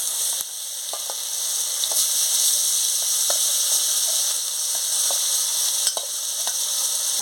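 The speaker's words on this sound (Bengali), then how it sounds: "আর ফোড়নটা দিয়ে দিচ্ছি। টমেটো কুচি দিয়ে দিচ্ছি।" Whole spices and chopped tomato sizzle in a pan of hot oil for a silver carp sour curry, a loud continuous hiss broken by several spaced spoon taps and scrapes.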